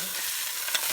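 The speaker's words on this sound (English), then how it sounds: "That is the sound of a nice golden crust" Pork sizzles steadily as it sears in hot olive oil, a close, bright crackling hiss with a few small pops.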